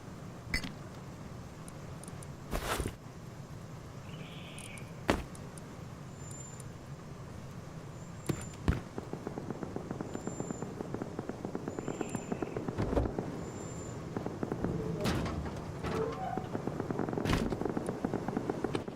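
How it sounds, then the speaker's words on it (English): Gunfire in the video game Rust, scattered sharp shots at irregular intervals over distant background noise, with a rapid burst of repeated fire in the latter half, fairly faint overall. "It's a lot of gunfire."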